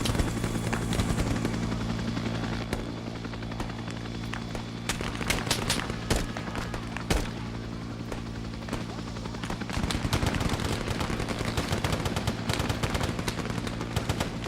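Heavy, continuous gunfire in a video game battle, dense rapid bursts and sharp shots layered over a constant droning engine-like rumble, loud and close throughout.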